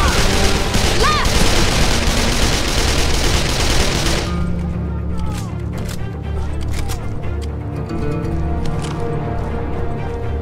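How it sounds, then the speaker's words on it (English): Rapid bursts of gunfire in the video game Call of Juarez: The Cartel, loud and dense at first, then thinning to scattered sharp shots over a rumbling background. "The sound of that gunfire could have carried a long way."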